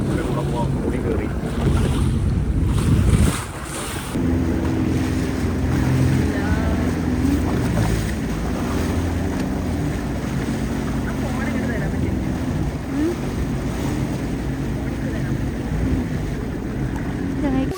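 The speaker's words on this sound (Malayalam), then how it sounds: "ഫൈനലി ഞാനും ജെറ്റ് സ്കി ചെയ്ത്." A jet ski runs across the sea off Albania, its engine droning under strong wind buffeting the microphone and splashing water, with people talking now and then.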